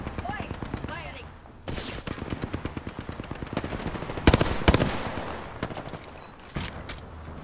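Rapid automatic gunfire in a video game, long bursts of sharp shots with louder single cracks midway and near the end, close and dense, with a voice calling out among the shots.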